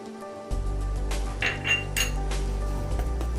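A spoon clinks steadily against a bowl while pancake batter with ghee is mixed, producing bright ringing taps over a low steady hum, with no talking.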